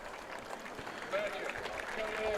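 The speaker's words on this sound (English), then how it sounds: "Crowd giving him a nice hand of appreciation" At a high school football game, Elk County Catholic at Redbank Valley, the crowd applauds an injured player as he leaves the field: steady, distant clapping with a commentator speaking over it.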